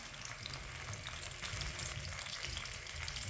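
Carrot halwa with chopped almonds, raisins and pistachios cooking in a pan over medium heat, a steady soft sizzle with faint stirring and no voices.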